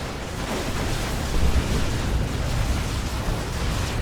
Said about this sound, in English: That's going to be a nasty explosion for those guys.